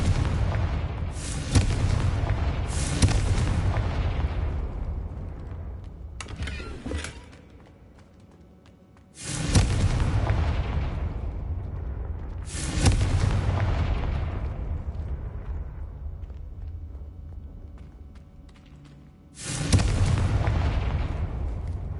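Confringo fire spells in Hogwarts Legacy go off as a series of loud, booming explosions, each a sharp blast followed by a long rumbling decay, about six of them spaced unevenly and heard alone.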